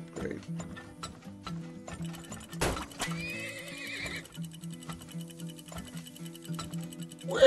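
A horse in a video game neighs amid clip-clopping hooves and mechanical ratcheting game sounds, with a plucked background music track running throughout.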